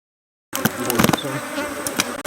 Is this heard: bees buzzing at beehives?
yes